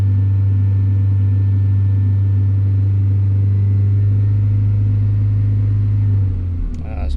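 A Wuling Confero S car engine held at raised revs to warm up, a loud steady idle-like drone with strong low rumble that drops off near the end as the throttle is released.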